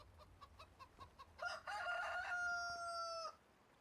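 Chickens in a farming video game, with soft clucks followed by a loud, close rooster crow that holds for over a second before cutting off.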